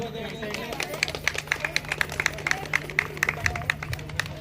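Women in the audience at a Women's Day games event clap in scattered, quick bursts, a lively patter of hands under background chatter.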